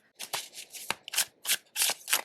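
A tarot card deck riffles and slaps together in quick repeated bursts, a crisp close-up shuffling rhythm with no talking.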